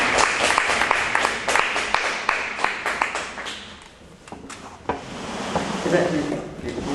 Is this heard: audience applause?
yes